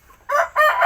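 A village rooster crows close and loud: a short rising call, a brief break, then a longer harmonic crow, with no speech over it.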